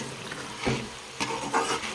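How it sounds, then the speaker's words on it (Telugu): Marinated mutton with chili, turmeric, coriander, cumin, ginger-garlic paste and garam masala is stirred as it fries in a pan, giving soft scraping sweeps and quiet sizzling in two or three short strokes. "దీన్ని బాగా తిప్పుకుందాం"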